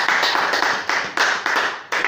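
Church congregation clapping during a service, loud and close, dense applause pulsing in a few bursts with no voices over it.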